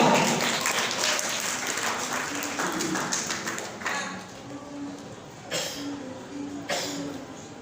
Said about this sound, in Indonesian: Kita tepuk tangan untuk beliau.